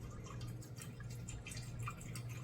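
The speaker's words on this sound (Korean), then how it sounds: "이런 디켄터에다가 와인을 따라주시면 됩니다" Red wine poured into a glass decanter for breathing: a close, steady liquid trickle with small splashes and drips, continuous throughout.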